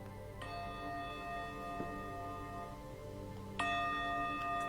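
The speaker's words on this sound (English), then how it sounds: "Soon the bell will sound." A meditation bell rings twice, each clear strike followed by a long sustained shimmering tone over a soft ambient music bed, calm and moderately loud.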